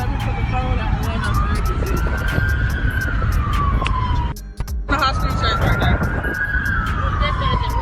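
A police car siren wails in long rising and falling sweeps through a high-speed chase, loud and close, briefly dropping out midway before resuming, with traffic noise and voices underneath.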